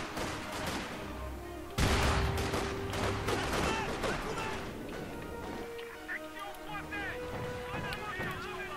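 Gunfire from a Company of Heroes 2 battle, with a loud burst followed by a run of rapid shots and ongoing battlefield rumble, while someone talks over it in French.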